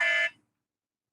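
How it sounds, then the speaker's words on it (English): A phone alarm sounds a single short electronic buzzing tone, fairly close, that cuts off abruptly after a fraction of a second and leaves silence. "my alarm. Let me make sure I cut it off."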